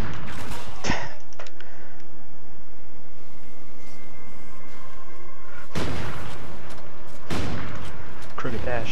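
Gunfire in Call of Duty: Ghosts online multiplayer: loud, sharp rifle shots burst out at the start, then come back as heavy blasts after a stretch of quieter battle noise, clipped and close.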